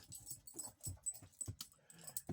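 Zora, a dog, whimpers softly and pants in short, quick breaths, faint and close, with small yips and whines scattered through a quiet room.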